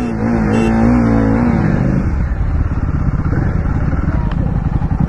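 Two Royal Enfield motorcycles, a Guerrilla 450 and a Continental GT 650, accelerating hard in a drag race, engines roaring loud and close with a rising rev that settles into a steady rumble, while a voice talks over them.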